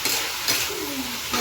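A vegetable fry sizzles in a pan, a close, loud steady hiss with brief stirring scrapes.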